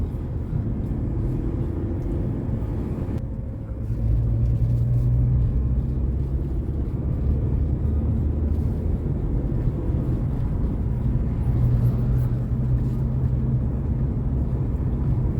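A manual car cruising at around 60 km/h gives a continuous low engine and road rumble from inside the cabin, with a brief dip and a shift in engine tone as the clutch and then the brake are pressed.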